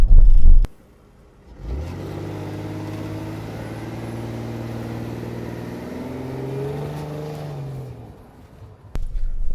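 A Jaguar S-Type sedan's engine revving up under acceleration on asphalt, a steady rising drone with harmonic tones climbing in pitch, close-up from inside the car, with no speech.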